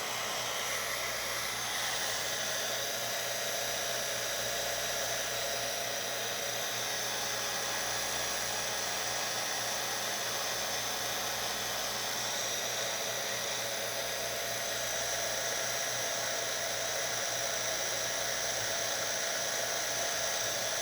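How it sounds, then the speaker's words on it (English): A heat gun blows hot air onto a handmade Halloween card, a loud, continuous whooshing roar that holds steady from start to finish with no voices. "Now we're gonna hit the heat gun on that."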